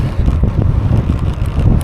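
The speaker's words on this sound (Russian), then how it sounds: "Начался ветер такой приличный." Steady, strong wind in Scotland buffets the microphone of a touring cyclist with a low, rumbling roar throughout.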